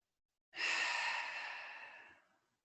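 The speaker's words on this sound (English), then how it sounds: "we'll take another 2 rounds of breath here" One slow, deep breath during a yoga session: a long, soft exhale, heard up close in a quiet room.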